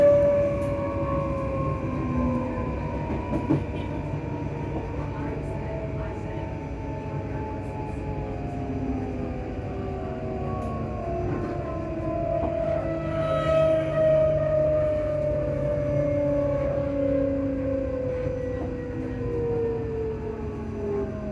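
A ScotRail Class 334 electric train, unit 334034, with traction wheels slipping: a loud, sustained whining drone of overlapping tones that slowly fall and shift in pitch for about twenty seconds, with steady rumble beneath and no talking.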